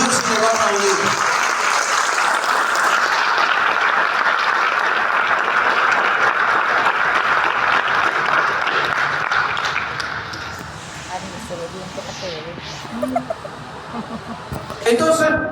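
Congregation in a church service applauding, dense continuous clapping for about ten seconds with some laughter, then thinning out as voices take over.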